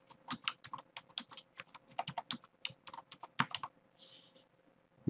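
Keys clack on a computer keyboard as text is entered into a PowerPoint slide, in an irregular run of quick, close, crisp taps with short pauses between bursts.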